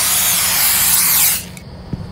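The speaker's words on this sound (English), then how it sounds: "spray something on the rats" A spray can hissing in a horror-style convenience store video game as rats are sprayed, a loud continuous close spray that cuts off after about a second and a half, followed by a faint tap.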